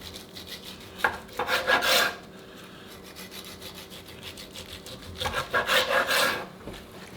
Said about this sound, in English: Now let's slice down the middle of it.